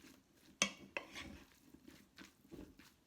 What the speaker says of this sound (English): Just make sure you mix it real well.